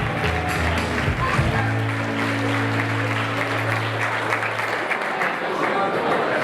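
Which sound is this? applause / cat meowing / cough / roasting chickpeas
applause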